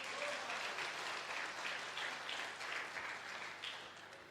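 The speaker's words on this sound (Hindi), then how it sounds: "तालियां हो जाएं सर के लिए।" Warm audience applause at a motivational leadership meeting in Meerut, a steady wash of many hands clapping at moderate loudness that eases slightly toward the end.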